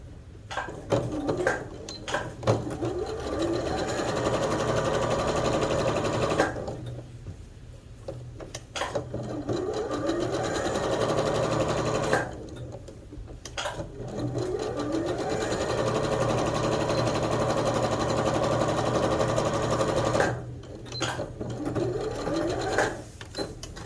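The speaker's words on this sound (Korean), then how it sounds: "주머니 선 따라 박음질 할게요." A sewing machine stitches along the pocket line of jogger trousers, running in three long loud bursts separated by short pauses for repositioning the fabric.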